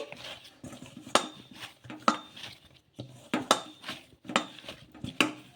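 Leftover idli is pressed and mixed by hand in a metal bowl, producing a series of soft squishes and sharp clinks against the bowl in an uneven rhythm, close and fairly quiet with no talk.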